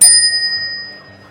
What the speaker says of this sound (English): When I ring this bell,